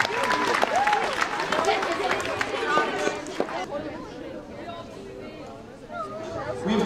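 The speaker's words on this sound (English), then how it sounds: "You can have a round of applause for Chick-fil-A and" A school audience at a middle school social studies expo bursts into applause, loud dense clapping for the first few seconds that thins out into crowd chatter and murmuring voices.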